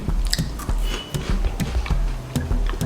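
Peanut butter puff snacks from Israel are bitten and chewed close to the mic, giving a few soft, squishy crunches in quick succession.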